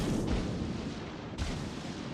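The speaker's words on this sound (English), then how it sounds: "we're taking fire from the Henri immediately" Warship guns fire in the World of Warships naval game: two heavy, close booms about a second apart, each with a long rumbling tail.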